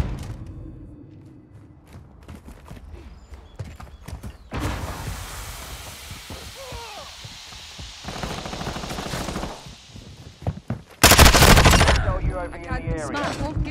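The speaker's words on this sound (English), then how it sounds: "I'm taking fire." Gunfire from a Call of Duty Modern Warfare II multiplayer deathmatch: repeated sharp shots and bursts, some close and loud and others farther off, with a very loud stretch near the end over steady game ambience.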